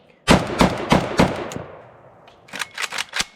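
A mini Beryl 5.56 pistol fires outdoors: a rapid string of four loud, sharp shots, then a brief gap and another quick burst of three or four reports, close and booming with strong muzzle blast.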